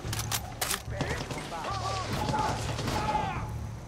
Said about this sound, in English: They're shooting each other.